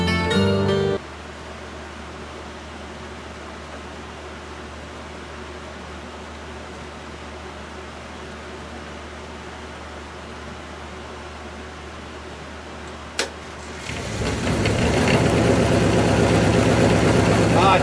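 A woodturning lathe spins a wood vase with voids in it, giving a low, steady whirring hum. After a sharp click it turns into a much louder, rougher broadband roar.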